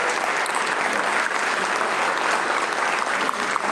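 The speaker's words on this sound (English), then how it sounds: "I ask you to stand and give them another round of applause" An audience stands and applauds a choir at an evening Eastern Province 2023 gathering in Norfolk, Virginia; dense, steady clapping fills the whole stretch at full strength with no voices over it.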